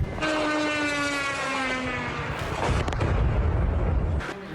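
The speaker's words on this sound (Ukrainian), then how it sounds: "Сирени характерне дринчання та вибухи." A steady, rising buzz of a Shahed attack drone fills the air over a Ukrainian city, followed by several loud booming blasts and rumbling near the end.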